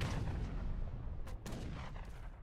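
Heavy artillery booms in a video game battle, a dense, loud wash of overlapping blasts with a few sharper cracks standing out near the middle, no voices.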